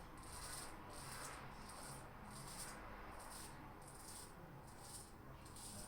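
Razorine v1 razor cutting facial hair while shaving: a quiet, close scratchy rasp repeated in about nine even strokes over a faint steady background hiss, with no talk.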